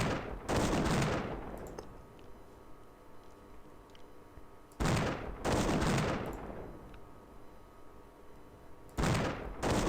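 Heavy artillery gunfire in the strategy video game Imperialism comes in three loud, dense bursts spaced several seconds apart, each fading into a lingering rumble before the next volley.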